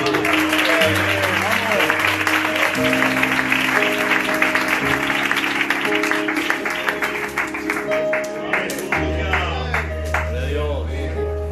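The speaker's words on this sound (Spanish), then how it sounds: "Vamos a recibir con un aplauso a nuestro hermano." Church congregation clapping to welcome a brother at a book presentation, rhythmic applause over sustained organ-like music chords, continuing for several seconds and thinning near the end.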